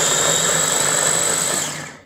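Small Ninja blender chopping parsley and garlic for chimichurri, a steady loud motor whir with blades buzzing through the greens, running continuously and winding down at the end.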